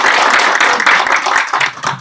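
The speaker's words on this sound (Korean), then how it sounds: "더 큰 박수와 함께 시작을" Audience applause at a humanities lecture, a dense spread of handclaps that holds steady for about two seconds and fades near the end, with no talking over it.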